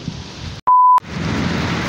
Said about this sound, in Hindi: देख सकते हो यहाँ बारिश स्टार्ट हो चुका है